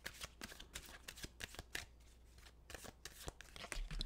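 Tarot cards are shuffled close up, a quiet, steady riffle of rapid slapping and fluttering bursts with no voices.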